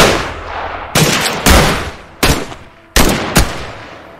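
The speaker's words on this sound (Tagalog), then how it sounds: "Ipinutok nila ang kanilang mga baril ng sunod-sunod" A gunfire sound effect: a handful of guns fire in succession as loud, sharp single shots, each one tailing off in a short echo, spaced unevenly about half a second to a second apart.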